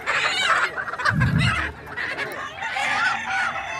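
Geese honk and chickens cluck in a noisy cluster of birds at a bird market in Khamis Mushait, Saudi Arabia, with overlapping calls and a brief low honk in the middle.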